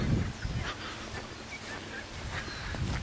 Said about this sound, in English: the ducks sound like they're having a gutful.